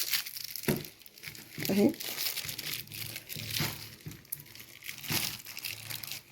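Plastic butter packaging crinkles and crackles as layers of outer wrap, stretch film and an inner bag are handled, in intermittent bursts under a person's ongoing speech.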